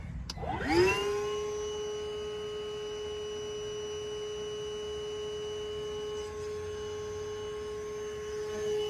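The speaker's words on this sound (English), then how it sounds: "let's see if it's a light enough clog that our vacuum will pull it out" A vacuum motor spins up with a rising whine, then holds a steady, loud tonal hum and rushing suction for several seconds, pulling at a clogged air-conditioner drain line.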